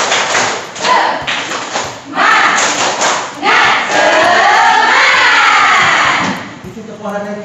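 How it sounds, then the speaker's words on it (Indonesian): Pupils performing the tepuk semangat, a rhythmic spirit clap, loud and close, with bursts of sharp claps alternating with group shouting and chanting voices. "Tepuk semangat."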